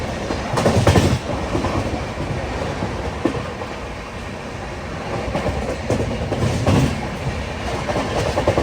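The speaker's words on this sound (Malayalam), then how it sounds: "പാനിപ്പത്ത് റെയിൽവേ സ്റ്റേഷനിലേക്ക് ട്രെയിൻ എത്തി" Shri Shakti Express passenger train pulling into Panipat railway station, a continuous rumble with rhythmic clickety-clack of wheels over rail joints, swelling and easing slightly, close and loud with no talk.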